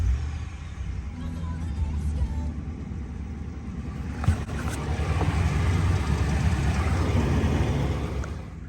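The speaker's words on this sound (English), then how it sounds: "I'm going to drive the front of the truck up on ramps" A RAM 1500 pickup with a 5.7 HEMI engine is driven slowly up onto ramps, a steady low engine rumble rising a little in the second half, close by and without talk.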